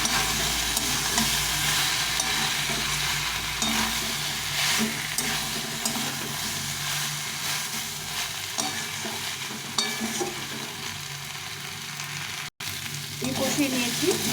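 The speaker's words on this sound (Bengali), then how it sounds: "ভালো করে দেখো কত সুন্দর কষানো হয়েছে" Vegetarian vegetable curry with ginger paste sautéing in a pan, a steady close sizzle with stirring scrapes throughout, a brief break near the end, no talking.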